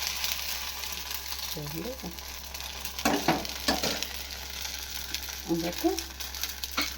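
Semiya (vermicelli) breakfast batter sizzling in hot oil in a pan, a steady close crackle with a few louder spitting bursts, under brief talk.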